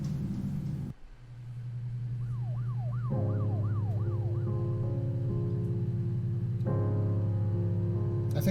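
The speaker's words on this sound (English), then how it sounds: "Did you hear that police siren just now?" A police siren in the Her Story video game wails in rising and falling sweeps over a low engine rumble, loud and close, followed by a steady two-tone horn blare near the end.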